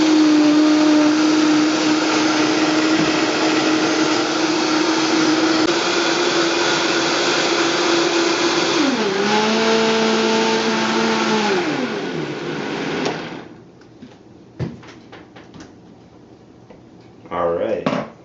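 A blender runs on high, whirring a green smoothie in a loud, steady motor drone that dips in pitch midway, then cuts off, followed by brief clatter and quiet.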